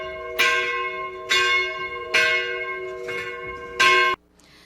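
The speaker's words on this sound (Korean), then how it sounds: "밥을 하시다 말고 나와서 종을 치시더라고요" A church bell rung by hand at a small church, five loud clanging strikes spaced about a second apart, each ringing out briefly before the next, then cut short into quiet.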